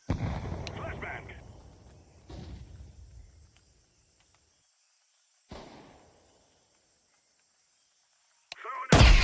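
Flashbang grenades detonate in a video game, with a loud burst that decays slowly, a second bang, a third weaker one, and a final abrupt blast at the end, separated by near silence.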